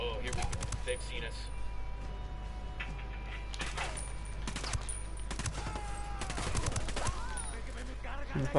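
Gun turret in a video game firing in rapid bursts of loud, sharp shots over a constant low rumble, with a voice speaking between the volleys.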